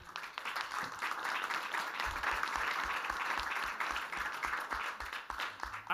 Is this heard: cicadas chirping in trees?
no